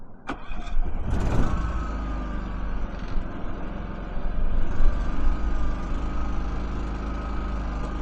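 A Predator 5000 portable generator engine runs steadily and loud up close after starting, a constant mid-pitched drone with a brief burst of higher noise near the start.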